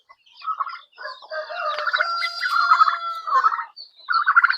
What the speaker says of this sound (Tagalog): Tapos ito mga kabrad yung ating mga sisiyo natin.